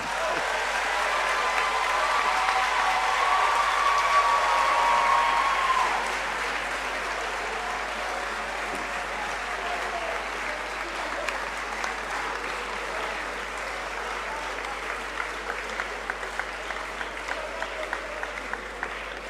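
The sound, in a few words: audience applause for the professor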